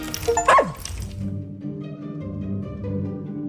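A small dog in the video game Little Orpheus gives a quick yip or bark near the start, followed by a steady hum of game ambience and music.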